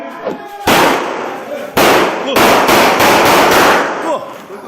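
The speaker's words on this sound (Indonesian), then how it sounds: "Pria ini marah-marah hingga meletuskan lebih dari 5 tembakan di dalam ruangan." Several sharp, loud pistol shots go off in quick succession, echoing indoors in an enclosed room, with brief shouting in between.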